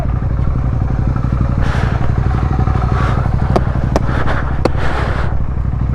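Loud, close motorcycle ride on a Ladakh mountain route from Pang to Manali, a continuous throbbing engine with wind rush and intermittent rattling clatter and sharp clicks throughout.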